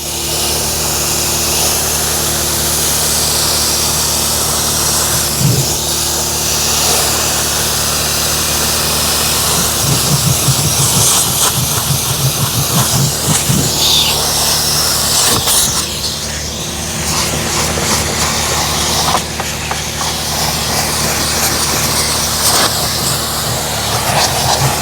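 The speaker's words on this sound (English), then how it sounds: "Now we grab our extractor with our heating element on, and we are extracting this carpet." A carpet extractor with its heating element switched on, pulling water from carpet during a mold cleanup, running as a loud, continuous drone for the whole stretch.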